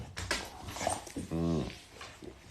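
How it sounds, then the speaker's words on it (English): A dog plays with a squeaky toy, producing one drawn-out, nasal squeak in the middle amid softer shuffling and background sounds indoors. "Here comes Holly again with her squeaky toy"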